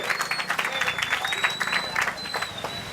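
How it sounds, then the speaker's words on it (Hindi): Audience applause at an All India Mushaira poetry gathering for Independence Day in Sakinaka, a dense steady crowd clapping throughout, fairly close and loud, with no speech over it. "दोस्तों पुरजोर तालियों से इस्तकबाल कीजिए ताकि मुशायरे का माहौल और भी खूबसूरत हो जाए।"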